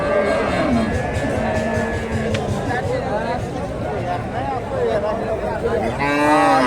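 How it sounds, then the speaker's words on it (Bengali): At a busy cattle market, a Friesian dairy cow lets out drawn-out moos over a constant hubbub of crowd chatter and nearby voices. "ফ্রিজিয়ান গাবি এই যে গাবিটা"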